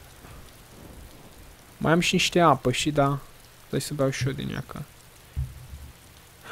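Rain falls steadily in the video game DayZ, a soft, constant hiss running under two people chatting.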